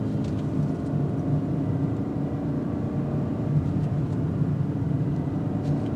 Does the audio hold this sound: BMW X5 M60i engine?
yes